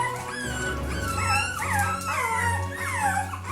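Four-week-old puppies whimpering and yipping close by, a continuous overlapping chorus of high, wavering whines and short yelps with no talking.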